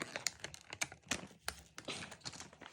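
Plastic unicorn surprise egg from a toy shop being pried open by hand, a close run of quick clicks, snaps and crinkly plastic rustles at irregular intervals with no talking.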